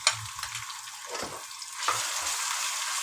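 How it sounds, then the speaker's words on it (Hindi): A garlic, ginger and chili paste sizzles in hot ghee in a pan with onions, a steady bright hiss with a few scraping stirs and soft clinks, close and alone. "लहसुन अदरक मिर्चों का पेस्ट डाल देंगे इसमें।"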